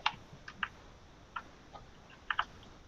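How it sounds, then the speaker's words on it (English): Sparse keystrokes tap on a computer keyboard, each one a quiet, crisp click. They come singly and in pairs with gaps between them, over a faint room hush. "I don't know if you can hear me typing"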